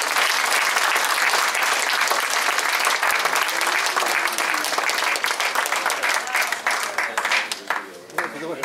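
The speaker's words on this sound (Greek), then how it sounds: "χειροκρότημα." A hall audience gives sustained applause at a commemoration of the centenary of the Asia Minor Catastrophe: dense, loud clapping that thins into scattered claps near the end.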